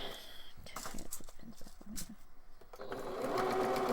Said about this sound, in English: I'm going in on this edge a little bit because I'm just top stitching